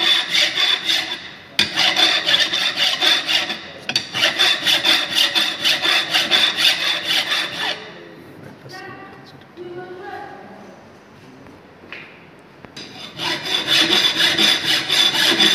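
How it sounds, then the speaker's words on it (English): A hand file strokes a metal workpiece held for straight filing in a workshop, giving repeated loud rasping passes in steady bursts with a quieter pause in the middle before filing resumes. "This is the file. First is the state filing, like this."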